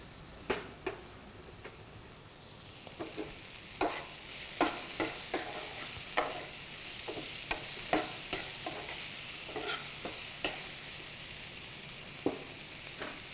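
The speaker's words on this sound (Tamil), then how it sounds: "கொஞ்சம் நல்லா வதங்கியிருக்கு கேரட், அவரைக்காய்லாம், வெங்காயம்லாம். இது கூட கேப்சிகமும் கத்திரிக்காயும் நான் சேர்த்துக்கிறேன்" Carrots, beans, onion, capsicum and brinjal sautéing in a pan, a steady soft sizzle with a dozen or so sharp spatula taps and scrapes spaced irregularly, close up and without talk.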